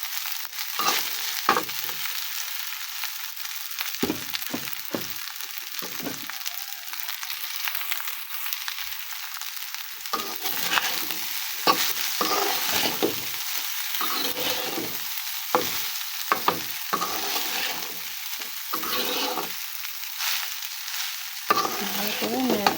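Leftover rice being stir-fried in a pan with coriander leaves makes a steady, hissing sizzle, with repeated scraping bursts as a spatula turns it over and over.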